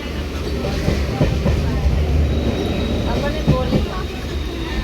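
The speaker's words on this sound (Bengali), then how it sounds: "আমরা যাচ্ছি তাহেরপুর থেকে লোকাল ট্রেনে করে শিয়ালদা" A local train running toward Sealdah in Kolkata, heard from inside as a steady rumbling roll with rhythmic rail clatter, carriage rattles and a faint high whine, constant loudness throughout.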